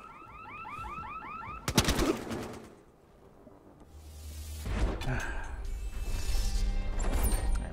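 A window shot out during a multiplayer rescue match in the game Battlefield Hardline: one sharp gunshot-like crack and glass crash, then a brief burst of impacts and noisy in-game action, over bird-like chirps and a steady rumble.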